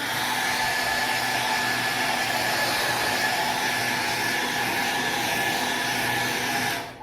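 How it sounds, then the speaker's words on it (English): A blow dryer running steadily on a dog with a loud, constant whooshing roar, then cutting off at the end. "we just used the blow dryer"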